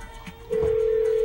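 A telephone sounds a short busy signal as a number is dialed: a low murmur first, then a loud, steady single tone that starts abruptly and holds to the end, with no voices.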